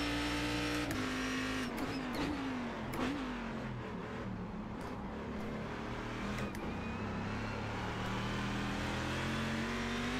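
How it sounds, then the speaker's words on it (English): A Cadillac CTS-V.R race car engine in the iRacing video game at Zolder drones steadily, pitch climbing and dropping through quick short-shifts with brief gear-change interruptions, close and continuous with no talking. "Just a short shift there to keep the revs down, keep the wheel spin under control"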